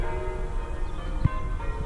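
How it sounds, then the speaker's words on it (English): Church bells toll continuously at moderate distance, a brief knock near the middle, ambient hum beneath. "Oh, there go the church bells again."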